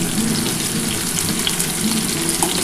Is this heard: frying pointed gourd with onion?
yes